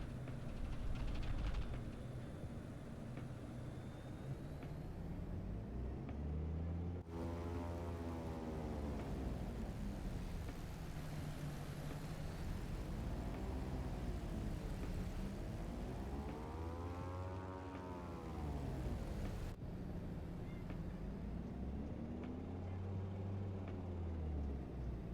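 A Britten-Norman BN2 Islander twin-engine propeller plane in Microsoft Flight Simulator 2020 throttles up for takeoff, a loud steady engine drone whose pitch rises and falls in repeated sweeps, broken by brief cuts, with no talk.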